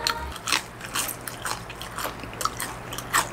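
Crisp bites into crunchy Golden Olive fried chicken repeat close to the mic, a steady series of sharp crackling crunches with light chewing between them.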